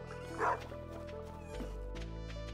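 A dog in the farming video game Stardew Valley gives a single short yip-like bark near the start, over a quiet looping in-game music bed with soft tonal notes.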